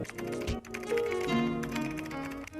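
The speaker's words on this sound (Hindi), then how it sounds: "एक साउंड इफेक्ट है, उसका नाम है कीबोर्ड टाइपिंग साउंड इफेक्ट" Rapid keyboard typing sound effect, a continuous run of light clicking keystrokes at moderate volume, layered over music during a video edit with no talking.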